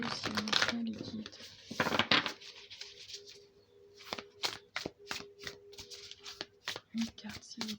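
Tarot cards shuffled by hand for a guidance reading, a run of quick, crisp riffling bursts and taps close to the microphone, with someone talking softly between them.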